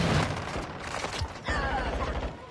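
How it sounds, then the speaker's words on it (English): A weapon magazine is swapped during video game play: a quick run of mechanical clicks, ratcheting and metallic clacks, close and moderately loud, with some background rumble. "Changing mag."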